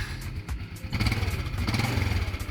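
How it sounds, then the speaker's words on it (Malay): A motorcycle engine cranks and catches, then settles into a rapid, loud putt-putting idle close by. "Akhir sekali, hidupkan enjin untuk pastikan bateri berfungsi dengan baik."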